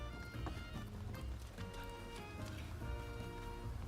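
Horse hooves clip-clop rapidly in a video game, a faint, quick galloping patter that runs continuously under a low background.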